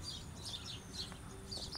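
Birds, including sparrows, chirp in a tree on the riverbank of the Rio Doce in Colatina: faint, repeated high tweets over a steady outdoor hiss.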